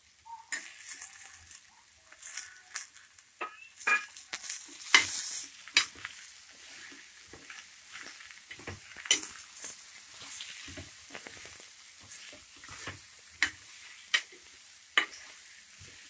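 Brinjal and potato pieces fry in oil for a sambar, with a steady soft sizzle throughout and intermittent scraping stir clicks, close and moderately quiet, with no talking.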